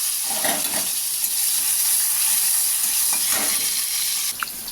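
Oil with nigella seeds sizzles steadily in a frying pan, a constant bright hiss with occasional soft stirring scrapes and a small clink near the end.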